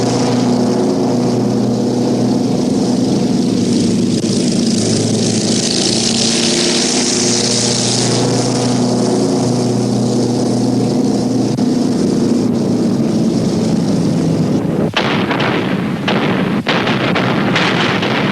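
Soviet bomber aircraft on a raid over Berlin, their engines a loud, steady droning roar throughout, with a few sharp bursts near the end that suggest gunfire.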